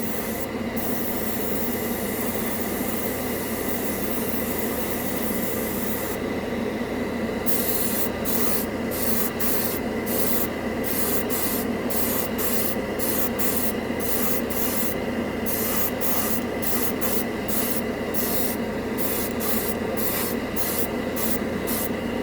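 An airbrush hisses steadily as it sprays yellow paint over red primer, a constant near airflow that runs the whole time, broken by a rapid series of brief stops and restarts near the end.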